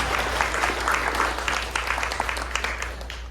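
Audience applause at a student exhibition of the haegeum, the Korean two-string fiddle, with steady dense clapping throughout over a low constant hum, fairly close and even in level.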